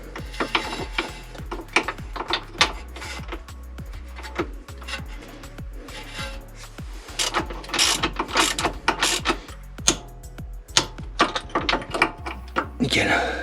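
Ratchet wrench clicking in quick bursts while tightening an engine mount nut on a BMW E46 330, close and dry, with repeated pawl clicks and short pauses between strokes.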